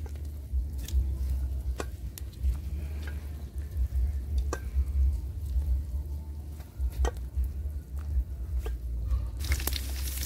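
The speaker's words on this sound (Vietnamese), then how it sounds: "Nấm kim châm chiên bột." Battered enoki mushrooms fry in hot oil, a dense continuous sizzle with occasional stirring clicks and scrapes, loud and close, with no talking.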